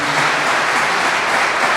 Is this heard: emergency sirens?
no